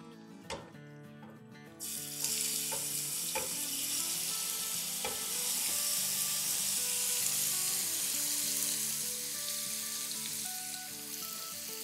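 Goat liver (kaleji) goes into 4 to 6 tablespoons of hot oil in a pan. A few sharp clinks come first, then a loud, continuous hissing sizzle sets in and holds steady while occasional stirring knocks sound beneath it.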